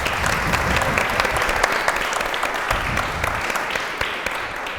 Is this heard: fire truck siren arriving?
no